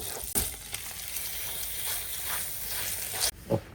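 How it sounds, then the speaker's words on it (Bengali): Bread slices fry in a little olive oil and butter in a pan, giving a steady close sizzle with a few brief clicks and stirring touches. "এভাবে সবগুলো ব্রেড আমি এখন রান্না করে নিচ্ছি অল্প একটু অলিভ অয়েল একটু বাটার ব্রেড"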